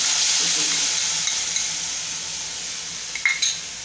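Tomato puree and masala sautéing in oil in a pan for a drumstick and potato curry, giving a steady soft sizzle throughout with a few light utensil clinks near the end.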